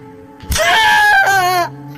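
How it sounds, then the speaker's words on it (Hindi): A man screams in pain, loud and drawn out over about a second, a single anguished cry in a Hindi horror audio drama about a haunted hotel. "दर्द से संजीव छटपटाने लगा और जोर से चिल्लाया"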